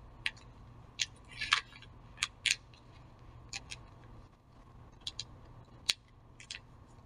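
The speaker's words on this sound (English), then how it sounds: "because we are going to cut along the fold, so we will cut up to this line" Scissors snip through folded magazine paper in short, sharp bursts, a handful of crisp cuts spaced irregularly with quiet pauses between, close and fairly faint in a quiet room.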